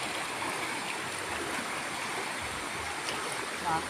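Flood water flows in a steady, close rushing wash like a stream, continuous and fairly loud throughout.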